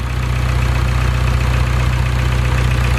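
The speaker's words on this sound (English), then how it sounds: "Here's a little sound clip of the motor under the hood." Honda Civic engine idling under the open hood, a steady, loud low rumble with an even pulsing beat and a faint rattle throughout, no voices.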